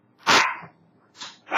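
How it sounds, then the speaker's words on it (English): A dog indoors gives three sharp, close barks, a loud bark, then a pause, then two more in quick succession, with no talking. "Bree, open the door so she can stop barking."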